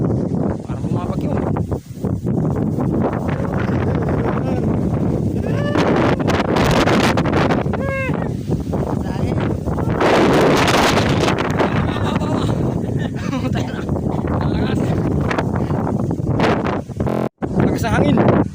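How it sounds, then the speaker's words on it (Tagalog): Strong, gusty wind buffets the microphone outdoors in stormy rain, a continuous loud roar with rumbling bursts, while people talk over it throughout. "Malakas ang hangin. Parang bumabagyo."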